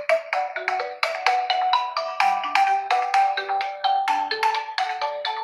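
A phone rings loudly and close with a fast, bright melodic ringtone, set off by the Find Phone alert on an Honor Watch Fit Active smartwatch, repeating without pause.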